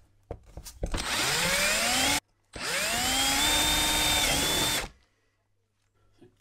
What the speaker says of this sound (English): We're going to get our drill and we're going to drill all the holes where we want them.